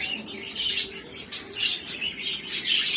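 Lovebirds and other caged birds chirp at a bird farm in Berhampur, Odisha. Dense overlapping high tweets and calls carry on steadily throughout, close and lively, with no talking.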